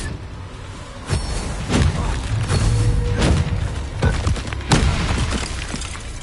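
Spell combat in the Hogwarts Legacy video game, with a string of heavy booming impacts and sharp bursts landing every second or so over a rumbling low background.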